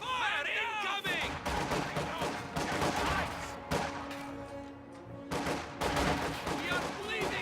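Rapid MG34 machine gun fire rattles through a busy video game battle, dense overlapping bursts and explosions filling the whole stretch at a fairly low level, with game voices mixed in.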